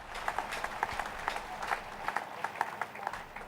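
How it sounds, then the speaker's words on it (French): A church congregation claps in a loose rhythmic beat, sharp claps repeating at a steady pace with some crowd murmur underneath, moderately loud and sustained. "Let's put our hands together for Jesus"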